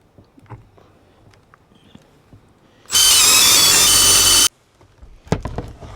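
A power drill with a countersink bit bores into a wooden birdhouse screw hole, a loud, steady whining burst of about a second and a half standing out from quiet workshop background.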